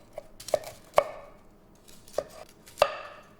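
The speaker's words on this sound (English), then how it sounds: "And I like to just cut the florets off the top." A knife chops broccoli florets off the top of the head on a cutting board, five crisp separate cuts at an uneven pace, close and clear with no talking.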